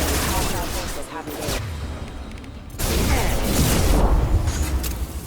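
Gunfire in the video game Mass Effect 2 during a fight against Blue Suns mercenaries, a steady barrage of loud, dense shots that thins briefly near the middle, then swells again with crashes and booms layered on top.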